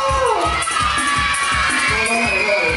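Children and teachers in a school setting clap and shout together, steady rhythmic clapping in a loud continuous crowd din with whoops and cheers running throughout.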